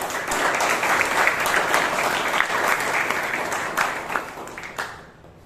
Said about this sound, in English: let's give a big round of applause for Toastmaster George